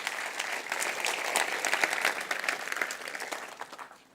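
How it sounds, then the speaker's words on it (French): Audience applause at a conference keynote, dense sustained clapping from a crowd that builds, holds steady and then tapers off near the end. "On peut l'applaudir, merci beaucoup."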